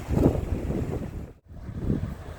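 Steady coastal wind on the Oregon coast buffets the microphone, rushing and roaring with a brief lull midway before gusting back up; no voices.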